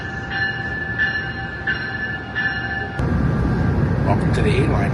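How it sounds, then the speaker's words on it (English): An A-Line commuter train pulls into Denver Union Station, its steady rumble and rail noise building with bright tonal squeals and a sharp jump in loudness as the cars arrive close by. "this might actually be my train coming in."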